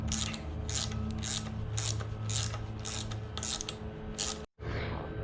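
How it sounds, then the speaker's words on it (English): Spring compressor cranked down on a Lexus strut, a series of about nine evenly spaced ratcheting clicks from a hand tool over a low mechanical hum, close and moderately quiet, ending with a short pause. "you need to start cranking down the compressors again"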